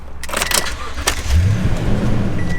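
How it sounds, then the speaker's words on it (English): Toyota Tundra pickup truck engine cranking and catching, a brief starter whir followed by a low idle rumble settling in, close by. "Let's go ahead and start the truck."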